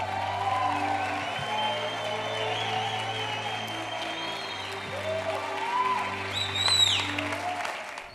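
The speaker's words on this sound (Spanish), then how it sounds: "Recibamos con un fuerte aplauso al doctor Yatensi Bonilla" Audience applause for a guest introduced at an event, a steady crowd wash of clapping lasting several seconds, mixed with a sustained tonal hum and faint high whistling tones.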